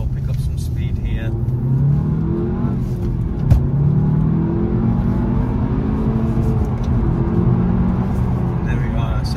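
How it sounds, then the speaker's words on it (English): A 2017 Seat Leon Cupra 300 with a 2.0 TSI engine and six-speed manual accelerating onto a main road, its steady low engine drone rising gradually in pitch and interrupted by a brief thump midway. "I'm going to get out onto the A1 now as well, pick up some speed here."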